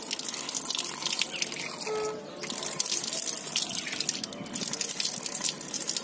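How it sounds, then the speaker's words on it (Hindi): Water runs steadily from a tap with a broad splashing hiss, close by, with a brief dip in flow partway through. "यहाँ पानी थोड़ा गिरता है"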